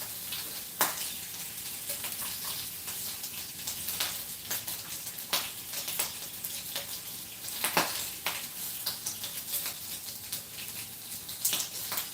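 Bacon frying in a pan, a dense crackling sizzle with frequent sharp pops and spits spread through the whole stretch, fairly loud and close.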